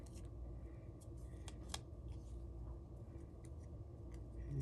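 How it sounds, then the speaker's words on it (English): Scissors trimming the tails of a ribbon tied on a Stampin' Up! paper craft card, a few quiet snips and clicks over a low steady room hum, close but faint. "Cut the trim off these tails."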